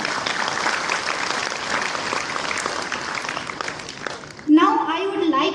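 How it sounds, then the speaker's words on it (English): Audience at a formal event giving a big round of applause for the chief guest, a steady dense roar of clapping that fades before a voice briefly cuts in near the end. "Again, I requested audience for the huge round of applause for our chief guest."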